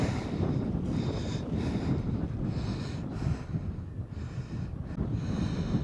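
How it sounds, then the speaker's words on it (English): Strong wind buffets the microphone on a coastal hilltop at Brean Down in Somerset, a steady roaring rush with gusty swells throughout, loud and close with no talking. "The wind is so strong at this top here."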